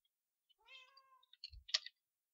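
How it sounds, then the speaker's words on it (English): A cat in a video game gives one drawn-out, wavering meow, then a short burst of sharp clicky chirps. The sound is faint, close and alone, with no talk over it. "Oh, and I can hear a cat."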